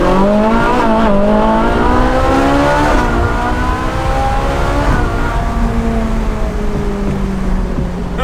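A Ferrari accelerating hard at high speed, its engine a loud, continuous roar with rising and falling tones as it climbs through the revs, heard up close without a break.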